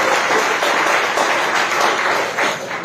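Church congregation clapping together during a worship service, a loud, dense, continuous wash of many hands with faint rhythmic pulses, no voices on top.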